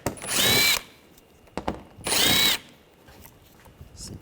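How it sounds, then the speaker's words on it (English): A power drill fitted with an 8mm socket spins out screws from a panel on a 2009-2013 BMW 328i xDrive 3.0L L6: two loud, close whirring bursts separated by a pause and a few light clicks. "Using a 8mm socket, we want to take these screws out."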